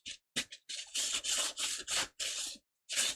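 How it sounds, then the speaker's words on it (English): An automatic tip cleaner for soldering irons gives off a run of bursts of harsh, broadband scraping and brushing noise. The bursts are fairly close, come in uneven pulses and have short gaps between them, with no talking. "if that is the noise you hear, is the automatic tip cleaner for irons"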